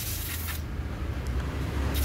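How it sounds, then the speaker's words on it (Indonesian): An air compressor blows washed motorcycle CVT parts dry on a Honda PCX in a workshop, making a loud broadband hiss in short bursts with brief pauses between them. "kita semprot pakai angin kompresor biar cepat kering"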